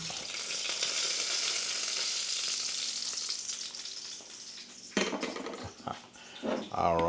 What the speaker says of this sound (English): let me turn the burger over here